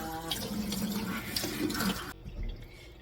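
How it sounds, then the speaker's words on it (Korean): Perilla leaves are washed one by one under running water for kimchi, with splashing, trickling and dripping close by that stops abruptly near the end. "깻잎 일일이 한 장씩 이렇게 앞면 뒷면도 씻어줍니다"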